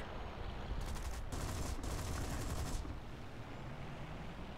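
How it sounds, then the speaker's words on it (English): Aircraft cannon fire in the War Thunder flight game comes in two rapid rattling bursts, each about a second long, over a steady engine drone that continues after the shooting stops. "And I waste quite a bit of cannon ammunition there."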